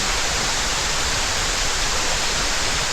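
Water pours down India's Diamond Waterfall in a dense, even rush of white noise, loud and close, with no voices over it.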